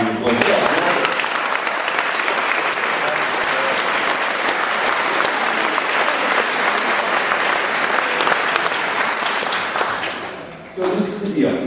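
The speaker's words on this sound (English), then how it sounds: "We give these teachers a round of applause." A school town hall audience gives the teachers a loud, sustained round of applause, dense and steady for about ten seconds before briefly dipping and picking up again.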